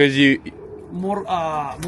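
Pigeons coo close by, giving a few short, throaty, wavering calls in quick succession with brief gaps between them.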